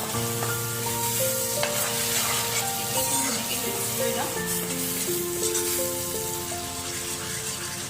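Spice paste sizzles and fries in a hot pan for dum aloo, a steady loud crackle that goes on the whole time, with music playing faintly underneath.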